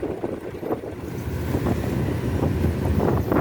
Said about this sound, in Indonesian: Ini kapal utara nih, kapal pada mau Myanmar.